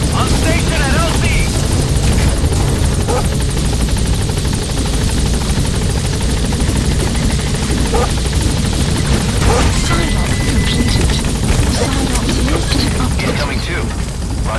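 Loud, steady rotor thump and turbine roar of the Pequod helicopter in Metal Gear Solid V as it sets down and lifts off again, continuous and close, with faint game noises and voices underneath.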